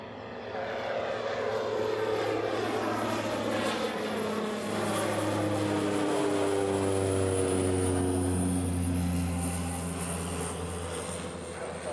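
A Cessna Grand Caravan turboprop of Southern Airways Express at Honolulu drones steadily and loudly throughout, its propeller hum rising in a sustained roar with shifting engine tones as it passes close by.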